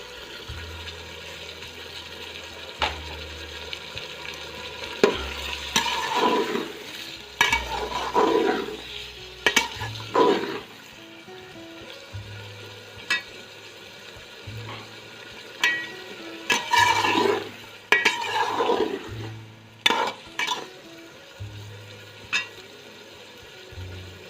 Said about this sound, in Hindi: तीन से 4 मिनट के लिए इसको अच्छे से हम भून लेंगे